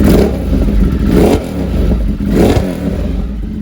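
A Ducati Monster 1200 motorcycle engine revs in three strong swells, each rising and falling, with a loud, rumbling exhaust note throughout.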